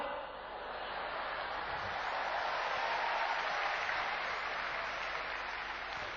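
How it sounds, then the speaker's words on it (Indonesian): Steady applause from a church congregation at an Easter sermon in Bonapasogit, broad and continuous, filling the room for several seconds. "Tepuk tangan, saya senang tepuk tangan."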